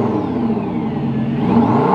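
A supercar engine runs with a low, steady rumble, then rises slightly in a brief small rev near the end. Close and fairly loud, no talking.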